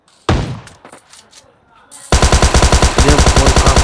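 Gunfire from an S12K in a mobile battle royale shooter game: one sharp shot near the start, then a loud, rapid, steady string of shots that continues to the end.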